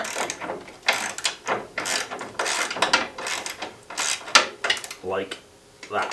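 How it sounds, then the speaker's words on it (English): A spanner tightens a nut while fitting saddlebag guards on a Harley, giving repeated close ratcheting, clicking metal strokes in an uneven rhythm, with someone speaking briefly at times. "I'm going to take my spanner, place it onto the nut, and then I'm just going to nip it up."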